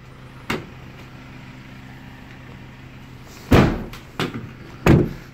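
Side loading door on a Ford Transit Limited van handled three times in quick succession: heavy thuds and slam-like knocks with a rattling tail, after a single lighter knock and quiet idle background, no voices.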